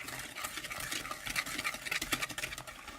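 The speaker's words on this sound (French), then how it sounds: "Puis ensuite, on va mélanger." Muffin batter for Nutella muffins stirred in a bowl, a steady close scraping and swishing with repeated spoon strokes, no talking.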